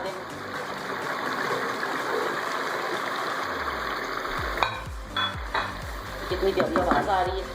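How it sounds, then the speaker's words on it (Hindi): Beef koftas sizzling in hot oil-rich masala: a constant loud frying hiss, then clattering and stirring bumps as the meatballs go in and the sizzle crackles up again. "अब हम कोफ्ते इसमें डालते हैं।"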